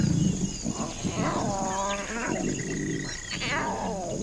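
Young lion cubs call to their mothers with short, moaning roar-like cries, several rising and falling calls over rumbling background noise, close and fairly loud.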